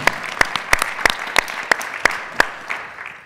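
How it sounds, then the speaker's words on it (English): Sparse audience applause for panelists at a national conference: about ten distinct claps spaced evenly, loud and close, tapering off at the end. "I want a round of applause for Prashanth and Gene and John."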